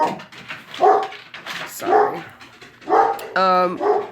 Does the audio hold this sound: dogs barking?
yes